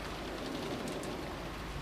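Steady rain ambience from the visual novel Umineko no Naku Koro ni, a continuous even wash of falling rain at constant loudness with no breaks, heard alone.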